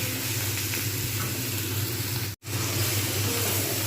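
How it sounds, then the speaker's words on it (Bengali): Loud, steady sizzling of peas and potatoes being stir-fried with spices in a hot pan, continuous apart from a brief cut near the end. "আবার ফের আমি এগুলো ভালোভাবে কষতে থাকবো"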